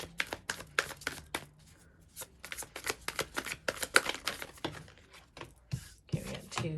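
Tarot cards are shuffled and handled in a series of quick, crisp riffling flutters and slaps, close and fairly faint, with short pauses between bursts.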